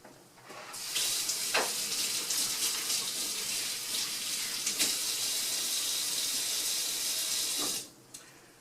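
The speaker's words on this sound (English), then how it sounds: "Let me wash my hands and we're going to get started." Tap water runs steadily into a sink for several seconds while hands are washed, a close, even rushing splash that starts abruptly and cuts off near the end.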